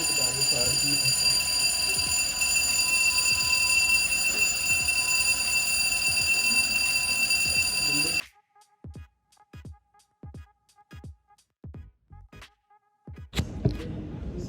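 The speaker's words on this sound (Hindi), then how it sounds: "एवरी थर्सडे यहाँ पे फायर अलार्म ड्रिल होती है," A fire alarm blares during a weekly drill at a university in Manchester, a loud continuous electronic ring for about eight seconds that then cuts off abruptly, followed by a person talking in a quiet room.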